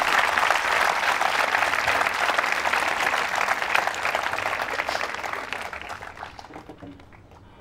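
Sustained applause from an audience at a quiz show held at a government women's engineering college in Ajmer, a dense and steady clapping that fills the room for several seconds before thinning out near the end.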